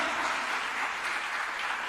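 A church congregation claps loudly during a family worship service, a dense, steady wall of applause from many hands that continues evenly throughout.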